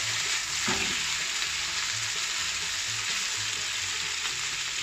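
Mushrooms fry in a pan beside chicken breast with cheese, sizzling steadily and close up while a spatula turns them with repeated soft scraping strokes.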